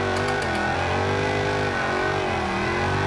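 A Dodge Hellcat engine in the BeamNG.Drive driving game revs steadily and loudly, a dense multi-harmonic roar holding close and continuous throughout, with slight pitch wavering and no voices.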